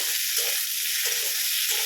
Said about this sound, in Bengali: এখানে এবার আমি পোস্তটা বসিয়ে দিলাম ওই কড়াইয়ে না ধুয়ে